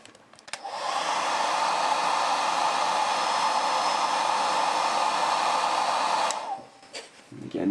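Hair dryer blowing steadily on wet paint on an artwork, a loud continuous whoosh running for about six seconds before cutting off near the end.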